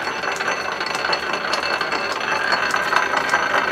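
A lathe with its half nut engaged winds a spring on a mandrel held in the tailstock chuck, producing a continuous, fast ticking mechanical whir with a steady clicking rhythm at moderate loudness.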